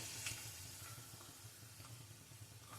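Masala papad frying in well-heated oil, a steady close sizzle with faint crackles and a low hum underneath, no voices.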